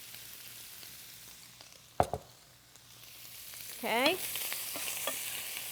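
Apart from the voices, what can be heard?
cauliflower rice sizzling and stirred in pan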